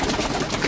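A pigeon coos briefly in a loft, a short low burble close by and partly buried in a dense, noisy background.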